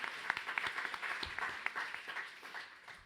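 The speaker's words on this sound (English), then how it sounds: "Yes, let's clap" Small alumni event audience gives quiet, scattered applause, a handful of distinct claps heard faintly at a distance over a few seconds.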